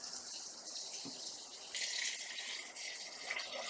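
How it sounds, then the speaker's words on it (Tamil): A kitchen tap runs water for rinsing chicken legs, a steady close hiss of flowing water that swells louder midway as the stream hits the pan, with no talking. "இதுல தண்ணியை பிடிச்சி கழுவிடுவோம்."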